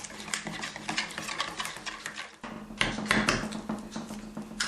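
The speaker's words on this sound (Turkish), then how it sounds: "Şöyle bir çırpıcıyla pürüz kalmayana kadar karıştırıyoruz" Hand whisk beating a dough mixture with sunflower oil in a bowl until smooth, a quick rhythmic clatter of wire against the bowl, close and moderately loud, with a brief pause midway.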